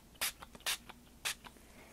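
Three short, hissing bursts from a spray bottle of acid-free color mist, pumped by hand onto scrapbook paper, close and fairly quiet, with soft handling taps between the sprays.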